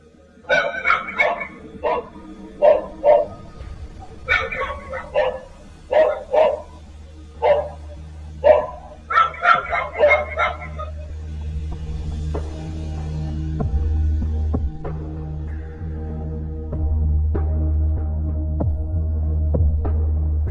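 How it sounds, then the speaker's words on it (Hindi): Several dogs bark in clustered bursts for the first half, aimed at a man walking along a road, then fade out, leaving a steady low hum and faint background noise. "यहाँ सड़क पर चलते इस शख्स को देखकर कुत्ते भौंक रहे थे"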